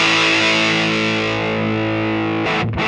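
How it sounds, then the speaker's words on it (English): An electric guitar plays through a Voltic fuzz pedal as its tone control is swept, producing a thick, sustained distorted chord that gradually darkens, then cuts sharply near the end before a brief burst of fuzz returns; no talking. "I'll go through the whole tone range here, just kind of let you hear what the sweep looks like"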